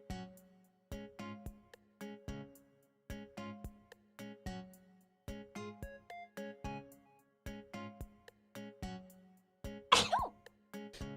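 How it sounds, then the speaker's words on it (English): One sharp, loud sneeze bursts out late over a quiet, steady backdrop of plucked, rhythmic music. "I've been sneezing a lot."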